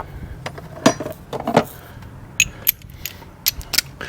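A 13mm bolt being tightened by hand to cinch a battery hold-down plate in a Porsche 991.2 GT3, giving close, intermittent mechanical clicks and ratchet-like creaks in short bursts with pauses between them.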